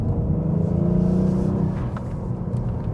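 The Genesis G70 3.3T engine rumbles low and close, its revs rising and then dipping briefly as the gear changes mid-clip, before the drone settles again.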